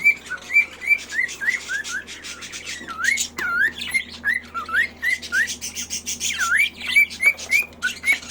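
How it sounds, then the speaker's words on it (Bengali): A breeding pair of cockatiels whistles close by, trading repeated rising and falling whistles mixed with chirps and squawks in a steady, busy stream with no talking. "দেখছেন ব্রিডিং পেয়ার শীষ দেন"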